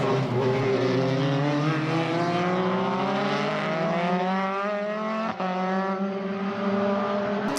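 Dallara and Renault single-seater race cars at Mondello in Formula BOSS Ireland running hard on the main straight, loud high-revving engines rising in pitch through gear changes, with continuous racing drone.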